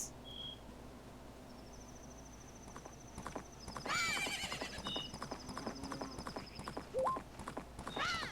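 A horse in Majora's Mask gallops across a field with rhythmic clip-clop hoofbeats, a whinny and bright game chimes over a quiet ambient background.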